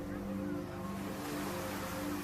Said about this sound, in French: J'écoute loin les vagues